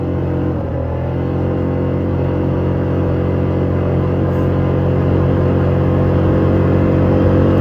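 A Polaris Magnum 330 ATV engine on a test drive, a loud, steady droning rumble with a constant tonal hum that builds slightly in strength, heard close and alone.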